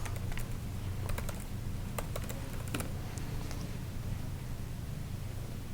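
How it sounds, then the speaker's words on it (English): Quiet, close clicks of a computer keyboard as email addresses are typed, arriving in quick irregular bursts over a faint steady background hiss. "once you type in the email addresses you want"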